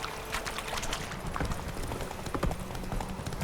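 Geralt's horse Roach from The Witcher 3 clip-clops along at a steady walk, with dense, evenly spaced hoofbeats close up and loud over a rushing outdoor ambience.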